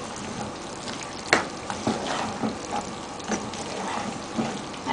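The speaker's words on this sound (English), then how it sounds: "Mix the nuts around in the pot so that they get covered in the caramel and they get cooked a little as well." Peanuts are stirred through hot caramel in a pot, making a soft continuous bubbling sizzle with scattered scrapes and knocks from the spoon, close and fairly quiet.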